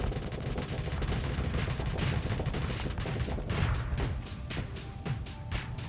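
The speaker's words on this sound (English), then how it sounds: "So the Pelham is just going to fire. It's just there as artillery." Rapid artillery fire from the Pelham ship in a space video game, a dense run of repeated booming shots and crackling blasts layered over a constant rumble, loud and continuous throughout.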